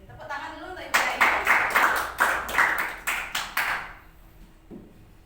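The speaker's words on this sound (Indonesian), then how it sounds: "Tepuk tangan dulu untuk Ibu Dayu." Roughly ten sharp, evenly spaced claps from a small group of people honoring Ibu Dayu at a teacher gathering, starting after a brief murmur and stopping abruptly, followed by near silence with a faint voice.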